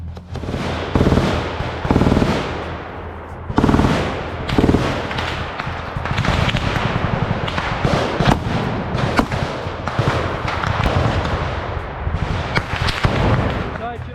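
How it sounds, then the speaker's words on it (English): Loud bursts of gunfire and explosive blasts come in rapid, overlapping volleys, rarely pausing, with a dense, chaotic rattle throughout, from a trench battle in Ukraine filmed on a GoPro. "you'll hear an overwhelming amount of gunfire"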